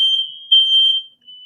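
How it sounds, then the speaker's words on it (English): A home fire alarm beeps in steady, piercing electronic tones, two long pulses with a short gap between them, loud and close with no one talking over it. "My fire alarm is ringing."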